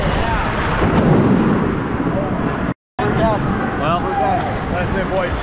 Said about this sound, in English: The lightning's literally hitting in the field over there. I've never heard lightning this loud.